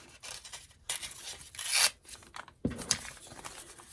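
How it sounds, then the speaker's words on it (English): The edge of a sheet of music paper is torn by hand for a journal. Close, dry rips and rubbing come in a few short bursts with quiet gaps between them. "I'm going to tear this edge of this music paper"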